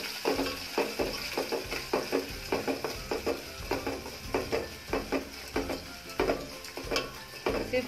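Chopped onions sizzling in a pan for upma, with a rapid run of spatula scrapes and taps against the pan over a steady frying hiss, close and clear.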